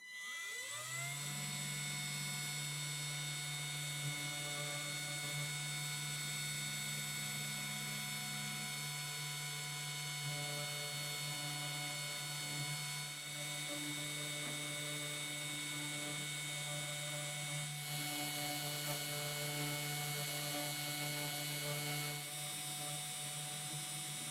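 A Sainsmart 3018 PROVer CNC router runs a G-code file, its spindle emitting a loud, steady high whine with layered tonal hum, while stepper motors shift pitch in stepped patterns throughout; no voices.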